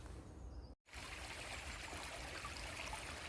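Meltwater stream flowing through a forest in Germany, a steady close rush and trickle of running water filling the scene, broken by a brief dropout near the start.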